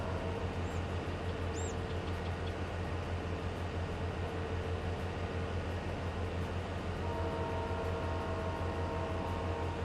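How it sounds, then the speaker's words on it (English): A train passing in the Farming Simulator 22 video game, a steady, continuous rumbling roar with low droning tones that holds level throughout, heard alone without talk. "Oh, I hear a train."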